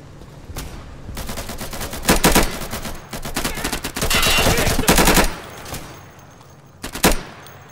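Bursts of automatic gunfire from the tactical shooter game Insurgency, fired in several sharp volleys with short gaps between them, loud and close, with a longer sustained burst near the middle.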